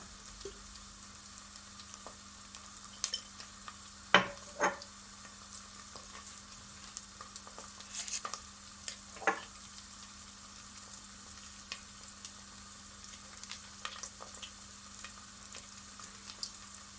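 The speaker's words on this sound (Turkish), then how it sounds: "Güzelce salçamı kavurdum" Tomato paste with chili flakes and powdered pepper sautéing in a pan for Erzurum haşo lobiye, giving a soft steady sizzle with a few sharp scrapes of a spoon against the pan.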